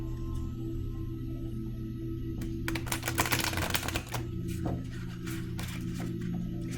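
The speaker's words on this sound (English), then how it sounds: "one more shuffle" A quick burst of tarot cards being shuffled, crisp riffling clicks for about two seconds, then a few soft taps over a steady low hum.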